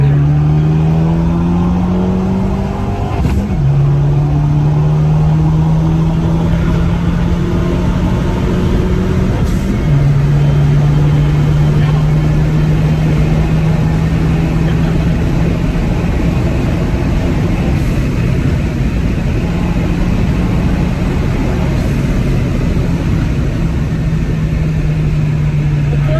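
A Fiat 500 Abarth accelerates hard on a track, its engine climbing through the revs with brief drops at gear changes, loud and close from inside the cabin, with a steady rushing road and wind roar throughout.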